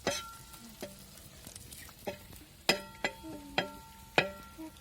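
Curry leaves and coriander dropped into a pumpkin dish cooking on an outdoor wood-fired stove, sounding as a low sizzle under repeated sharp metallic clanks of stirring that ring briefly, close and without speech.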